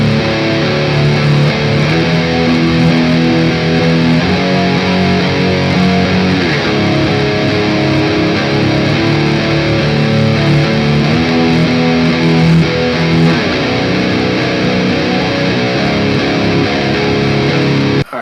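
A heavily distorted electric guitar plays a rhythm part, with a dense, sustained strummed and chugging pattern. It is loud and unbroken throughout, with no voice.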